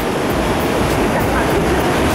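Roaring of Iguazu Falls at the Devil's Throat in Argentina's rainforest, a loud, continuous broadband rush of falling water heard up close, unbroken and steady throughout.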